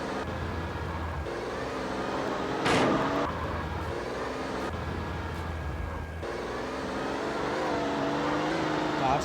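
Video game car engine drones steadily through a chase, with a brief louder burst partway in; someone talks over the engine noise throughout.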